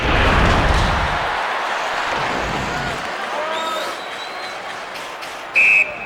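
A sharp, shrill referee's whistle blows briefly near the end of an NHL 2001 ice hockey video game All-Star game, over steady arena crowd noise and applause.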